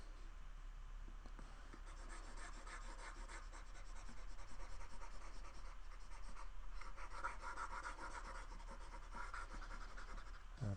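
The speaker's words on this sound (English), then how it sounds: "I'm going to erase a whole bunch of stuff up here." Eraser rubbing across a board to clear math writing, a faint, continuous scrubbing with rhythmic strokes and no talking.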